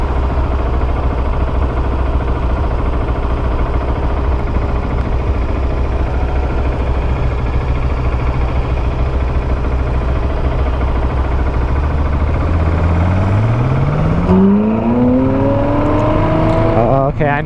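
A Ferrari 458 V8 idles with a low, steady burble, then revs hard and accelerates, its pitch sweeping sharply upward into a loud, screaming wail that rises in the final seconds.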